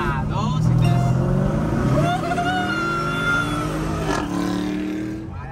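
A pickup truck revs and accelerates hard in a straight-line drag race, its pitch climbing through gear changes in a sustained, loud roar.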